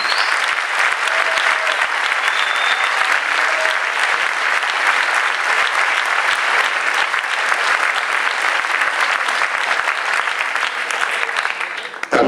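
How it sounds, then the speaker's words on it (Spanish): Strong, sustained applause from a large crowd fills the whole stretch, dense and loud clapping at an event for the group Fent República, continuing without pause until it cuts off at the end. "Un fort aplaudiment per Fent República."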